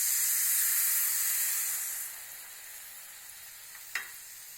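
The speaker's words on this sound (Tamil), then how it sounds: "இப்போ நல்லா கொதிக்குதுங்க." A sugar and water syrup, one cup sugar to half a cup water, boils in a kadai, giving a steady bubbling sizzle and hiss that eases midway, with a brief clink near the end.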